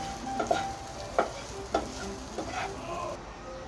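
Boiled chickpeas, cooked with salt, are mixed and fried in a pan, giving a steady low sizzle broken by several sharp spoon scrapes and clacks at uneven intervals.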